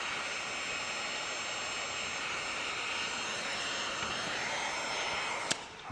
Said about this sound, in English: And heat it up really good so it doesn't pull any dirt back when I shave it.